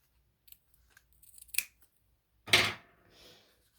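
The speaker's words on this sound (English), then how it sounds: "And I'm gonna cut it like here." Scissors cut fabric for a simple elastic-waist skirt, with a few faint snips followed by two sharp, close blade closures, then a softer trailing rustle, with no talk.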